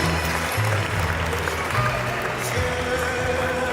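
An audience at a 2018 business-founders award ceremony applauds prize winners, a dense, steady wash of clapping from many hands throughout, with a voice faintly underneath.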